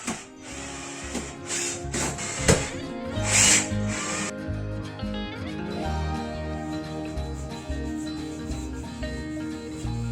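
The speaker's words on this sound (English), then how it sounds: "I'll use the other drill because it's a bit softer." A hammer drill whirs and rattles loudly and steadily, with a sharper grinding burst early on.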